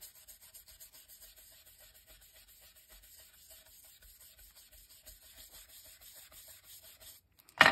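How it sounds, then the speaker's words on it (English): A stiff bristle stencil brush scrubs back and forth over a card, rubbing loose gilding flakes away in a steady, faint, continuous scratchy sound with no talking, ending in a brief louder knock. "I'm just going to rub across here to get off most of the loose"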